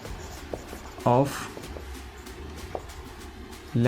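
A pen scratches on paper as a maths problem is worked out, faint continuous scraping beneath a teacher's speech.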